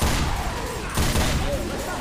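A mounted turret in the video game Left 4 Dead 2 fires a heavy, booming barrage of shots, loud and close, with thuds and a voice breaking through the noise.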